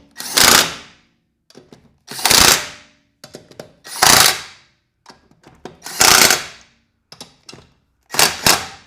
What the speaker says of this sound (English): This is where we torque everything to spec.